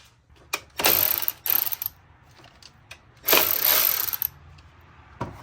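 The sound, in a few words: ratchet loosening valve cover bolts on BMW 335d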